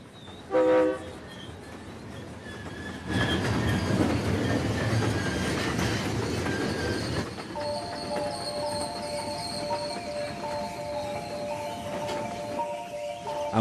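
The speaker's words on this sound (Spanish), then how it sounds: "el sonido del silbato del tren los sobresalta" A train rumbles past nearby in Australia, then a long, steady whistle sounds with layered tones and carries on to the end over the rolling noise.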